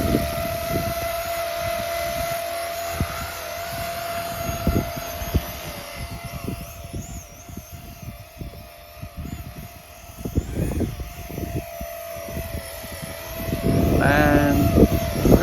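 A Walkera DQ59 EC155 Dauphin RC helicopter flying outdoors in windy weather, a steady high whine from the rotors and motor with shifting pitch, gusty rumble underneath and a brief rising tone near the end.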